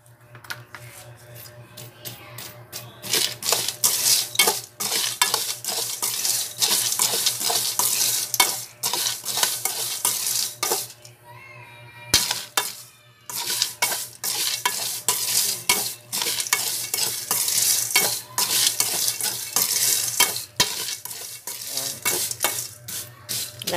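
A delicacy mixture being stirred thoroughly in a pan, seasoned with a pinch of MSG, with repeated rhythmic scraping and clattering of a utensil against metal over a steady sizzle, close and loud with a brief pause midway.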